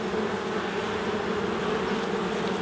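Honeybees in an open hive buzzing as a dense, steady drone, close and continuous.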